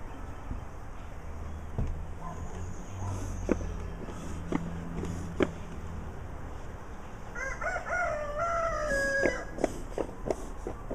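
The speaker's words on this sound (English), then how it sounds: "Hear my rooster." A rooster crows a couple of times at moderate distance, its harmonic call rising and wavering over steady outdoor background noise.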